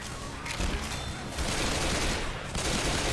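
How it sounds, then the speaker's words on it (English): An LMG loaded with explosive ammo hammers away in Left 4 Dead 2, a loud, unbroken barrage of rapid blasts that fills the whole moment up close. "Explosive ammo with the LMG."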